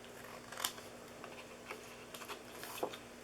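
Scissors cut into scored card for a popcorn box, a few quiet crisp snips and paper rustles close by, sparse and irregular over a soft background hum.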